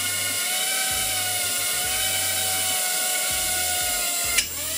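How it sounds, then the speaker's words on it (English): A small drone's propellers spin steadily at half power, a loud continuous high whine with a constant pitch, and a brief sharp click near the end. "that was that drone literally on just half power"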